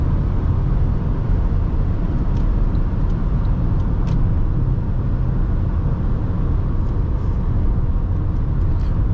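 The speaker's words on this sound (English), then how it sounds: "there is no problem in driving this car" A 2009 Honda Accord LX cruises on a freeway on a hot day with the air conditioning running, giving a constant, loud interior road and engine drone with tire noise and faint ticks, and no talking.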